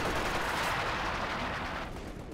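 Mortar barrages in a Company of Heroes 2 multiplayer battle, a continuous dense rumble of explosions and distant firing that stays loud and steady throughout, with no voices over it.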